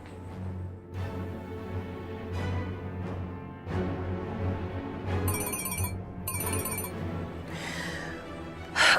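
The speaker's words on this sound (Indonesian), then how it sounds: "tolong angkat teleponnya dong" A phone rings unanswered in a drama scene, short bursts of a high electronic ringtone repeating twice amid background music and ambient sound.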